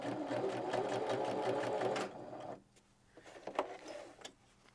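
A Viking 118 sewing machine runs steadily stitching fabric, a fast even mechanical whir and tick for about two seconds, then stops and leaves quiet handling clicks and faint rustles nearby.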